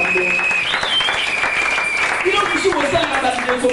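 A church congregation applauds loudly and steadily during a Communion and Easter service, dense clapping filling the whole stretch alongside a voice and some sung or shouted tones.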